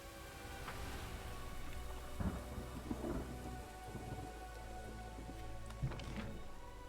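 A video game storm of blood rain falls steadily, with faint rumbles of thunder and a few brief thumps rising over the constant hiss at moderate, distant volume.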